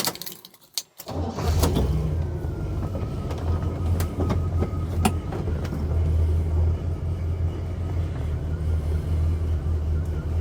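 A 1972 Oldsmobile Cutlass on a test drive: after a short quiet moment the engine starts and settles into a continuous low rumble with road noise and occasional clicks and rattles from inside the cabin.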